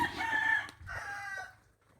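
A four-month-old native chicken clucks and crows in two short, fairly faint calls, alone with no talking.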